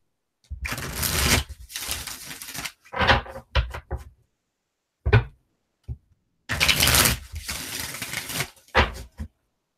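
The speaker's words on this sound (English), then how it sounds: "I think this is my favorite shuffle. Shuffle's so easy." A deck of tarot cards is shuffled close by in several bursts of riffling and sliding, separated by short pauses and followed by a few soft taps as the cards are squared.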